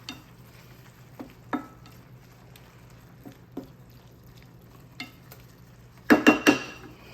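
Sausage cooks in a pan and is stirred now and then with a utensil, giving faint steady background noise, a few sharp scrapes and taps against the pan, and a louder clatter near the end.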